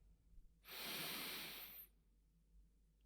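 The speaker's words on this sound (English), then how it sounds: "Take a deep breath in" A single deep inhaled breath during a guided mindfulness exercise, a close, airy rush lasting over a second that rises quickly and then stops, alone in a quiet room.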